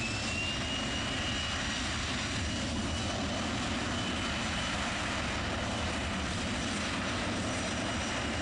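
Aircraft taking off from runway 23 left at Manchester Airport, a steady distant jet engine roar holding at moderate level throughout with no voices.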